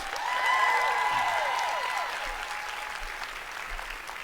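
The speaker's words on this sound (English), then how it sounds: "Give yourself a huge round of applause" A large conference crowd applauds, swelling early and then slowly tapering, with whoops and cheering voices and tonal whistling sounds riding over the broad wash.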